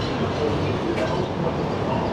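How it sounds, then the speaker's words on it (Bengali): A New York subway train pulls out of a station bound for Jackson Heights, producing a steady, loud rumble that fills the platform with no pauses. "ট্রেনটি ছেড়ে যাচ্ছে জ্যাকসন হাইটস স্টেশনের উদ্দেশ্যে"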